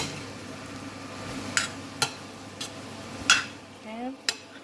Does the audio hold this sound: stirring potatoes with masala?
yes